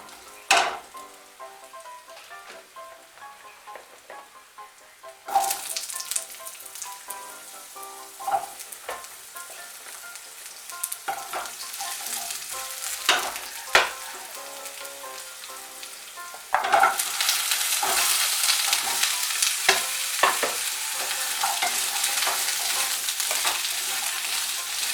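Vegetables frying with ginger in a pan while being stirred now and then: a continuous sizzle that swells louder partway through, with sharp clicks and scrapes of the spoon, close and with no talk.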